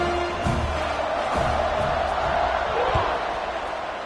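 Football stadium crowd at a college game between Kentucky and Stanford, a loud steady roar of cheering just before the kickoff, continuous and dense throughout with a few thumps rising out of it.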